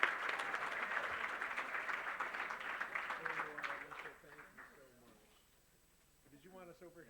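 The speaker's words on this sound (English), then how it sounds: "So give them a big round of applause." Audience applause at a natural areas conference awards ceremony, steady clapping that fades out after a few seconds, followed by a voice speaking near the end.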